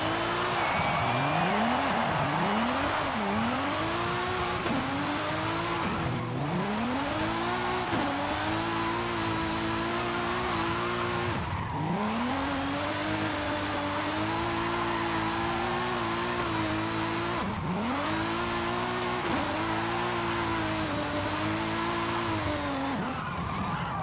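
A 2005 BMW M3 with rear-wheel drive drifting in Forza Horizon 5: a loud, continuous engine roar rises and falls with repeated revving, and long tire squeals and skids run throughout.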